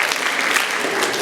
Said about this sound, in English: there's a medium amount of applause